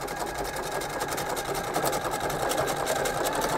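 Sewing machine running a zigzag stitch on fabric bunting, a close, steady, fast mechanical whir that holds continuously without pause.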